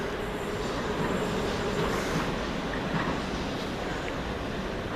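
A Southern Railway class 377 electric train runs through East Croydon station without stopping, a steady broad rumble and rail roar holding loud and even throughout with no voices.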